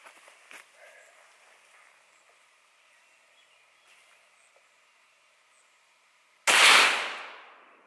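A single loud gunshot firing a Remington UMC 115 grain hollow point near the end, sharp and close with a quickly fading tail, following quiet background hum.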